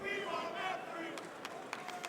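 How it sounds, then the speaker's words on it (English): A large esports arena crowd at a Rainbow Six Siege Major playoff match roars in a steady wash of cheering, with a few sharp shouts and claps standing out near the end. "the crowd wants map 3"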